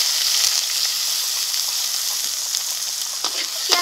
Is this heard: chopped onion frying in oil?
yes